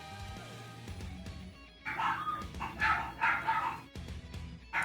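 Several dogs bark in repeated bursts over a low background hum, the barks moderately loud and somewhat distant, with short pauses between volleys and a quieter stretch near the start.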